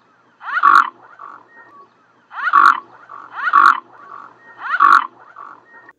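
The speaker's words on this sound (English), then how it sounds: "Mute swans sound like this." Mute swan giving four repeated rough, snorting calls in pairs, loud and close, with short quiet gaps between them and no other sounds.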